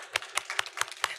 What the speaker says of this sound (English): we can definitely applaud that